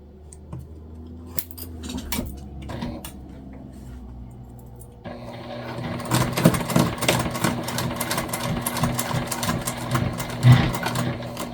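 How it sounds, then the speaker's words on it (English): A sewing machine stitches a crossbody bag seam at a quarter-inch allowance, starting with sparse clicks and handling taps before a steady, close mechanical whirr of stitching takes over for the second half. "And we're going to sew together at a 1/4 inch seam allowance."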